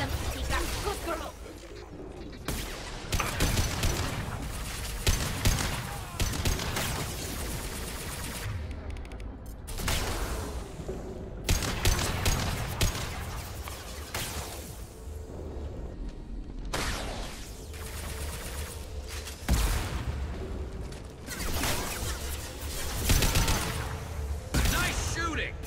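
Gunfire in Mass Effect 2 Legendary Edition, repeated bursts of shots and crashing impacts across a long firefight, loud and close, with voices talking over parts of it.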